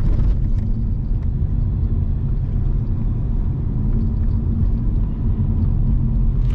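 Steady low engine rumble and road noise from inside a Mercedes A250 on the move, a constant loud drone with no talking over it.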